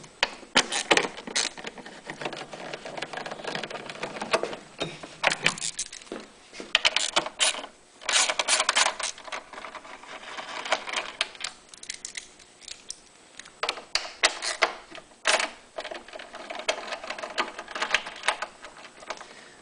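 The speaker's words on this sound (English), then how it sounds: "So just remove the 3 bolts and be very careful not to drop the washers when you're removing the bolts from the cylinder head cover." Bolts come off the cylinder head cover of a Honda EU6500is generator, giving a run of close, dense ratcheting and mechanical clicking that continues with brief pauses.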